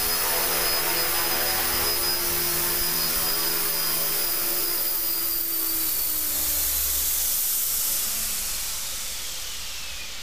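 A radio-controlled model helicopter, a T-Rex, hovers and sets down for a landing, its steady whine and rotor hiss loud and close, with a high tone slowly falling and the noise easing off near the end.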